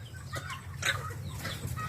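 Pet chickens and turkeys cluck at feeding time, soft repeated calls close by over a low steady background hum, with one brighter call near the middle.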